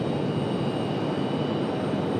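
Alaska Airlines jet at Raleigh-Durham International, departing for Seattle, giving a steady broadband engine roar that holds at an even level throughout, with no voices.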